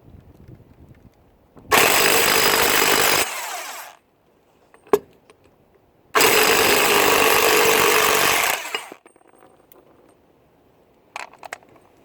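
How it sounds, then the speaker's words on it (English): An impact wrench (buzz gun) works on a drive shaft nut on a Renault Kangoo van, sounding as two loud, sustained rattling bursts of a couple of seconds each with quiet workshop sounds between. "I came to grief using this buzz gun last time I was working on this van"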